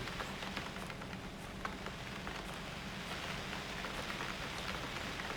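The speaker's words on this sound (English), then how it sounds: "when it's raining" Steady rain pattering in the video game UnReal World, a dense even patter of drops, fairly soft and constant throughout.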